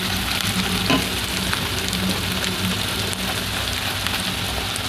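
Chopped tomato meets garlic frying in hot oil while mutton is being cooked. A loud, dense sizzle carries on steadily close by, with a brief louder spatter near the start.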